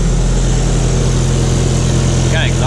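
A car engine idles steadily and loudly up close, its rough exhaust note from an exhaust leak and aftermarket downpipe running without pause, with a brief faint chirp near the end.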